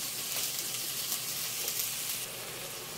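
Chistorra sausage sizzling on a carne asada grill, a soft continuous crackle with a gentle hiss, faint and steady throughout, no talking.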